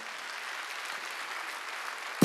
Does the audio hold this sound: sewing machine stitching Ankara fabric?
no